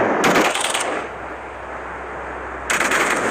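Vandal rifle fire in the video game Hyper Front, two loud close bursts of rapid automatic shots separated by a quieter lull of ambient hum, the first burst brief and the second starting near the end.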